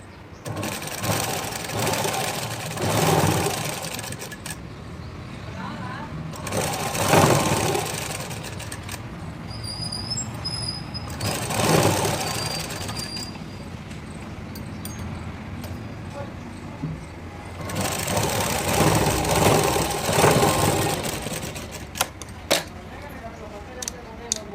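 A sewing machine stitching a blouse with long stitches runs in four distinct bursts separated by short pauses, whirring closely and steadily while a voice talks throughout.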